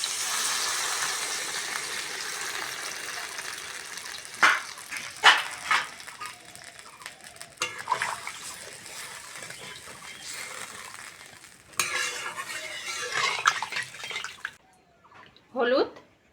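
Water gushes and splashes in uneven bursts as it is poured into a pan of Bengali mrigal fish curry (macher jhol), close and fairly loud, with a voice speaking now and then.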